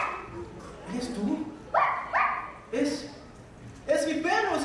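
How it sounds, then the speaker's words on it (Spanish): During a stage play, a dog barks in short yips and whimpers several times, close and fairly loud, amid room noise, with actors' voices around it. "¡Oh, mi lindo perrito!"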